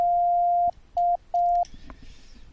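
A pure steady test tone fed into a laptop microphone for Morse code sounds as beeps: one long tone, then two shorter ones with gaps, clean and clear over near silence.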